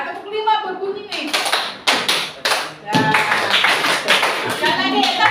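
During a classroom clapping game, a group claps out a five-count pattern after a teacher's cue. After a brief voice, sharp close claps come in spaced bursts, then settle into a denser run of quick claps.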